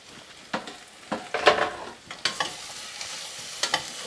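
Fish pieces stirred in a pot while cooking for fish stock, several close scraping utensil strokes and soft clatters spaced irregularly over a low sizzle, no voices.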